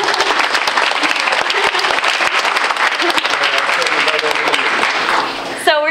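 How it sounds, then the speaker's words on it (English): At a school committee meeting, a room full of people gives Miss Larson a round of applause, dense and steady clapping with some individual sharp claps, fading slightly before a voice briefly cuts in at the end. "can we give a nice round of applause for Miss Larson?"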